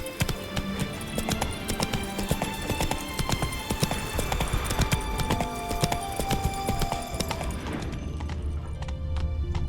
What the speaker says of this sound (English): Not so fast, Roach. Giddy up